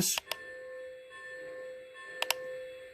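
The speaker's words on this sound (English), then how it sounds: "if you start the bell, it'll start ringing" Bell on a Lionchief Polar Express model train rings in quick paired dings, with a soft sustained chime ringing between the strikes, close and fairly quiet.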